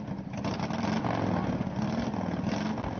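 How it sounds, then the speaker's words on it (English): A motorcycle rumbling outside at night, a loud, steady engine drone with slight revving fluctuations throughout, no one talking. "she hears the loud rumbling of a motorcycle outside."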